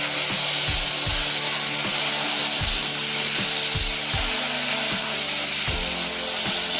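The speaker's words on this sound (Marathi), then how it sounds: "याच्यातच आता आपण वाफवलेले वाटाणे टाकून घेऊया।" Steamed green peas are stirred into a spice mix in a pan for a Maharashtrian pea usal, with steady, rhythmic scraping strokes and low knocks repeating throughout, close and fairly loud.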